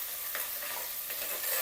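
Chopped green chillies and ginger-garlic paste sautéed in hot oil with whole spices and bay leaf, a bright continuous sizzle with soft stirring scrapes, close and steady throughout.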